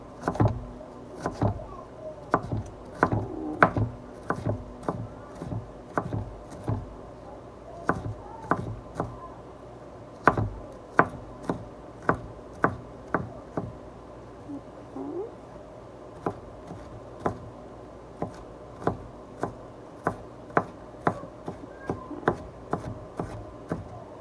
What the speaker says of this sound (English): you just want to chop it up, get it nice and diced